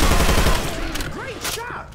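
Rapid machine gun fire in the zombie shooter Left 4 Dead, a dense loud rattle at first that thins out, with in-game voices calling out over the shooting.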